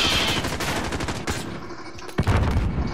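RPK or PKM machine gun fire in the game Call of Duty Modern Warfare: a loud, rapid burst of automatic shots, then a short lull and a heavy booming hit with more firing, close and dominant.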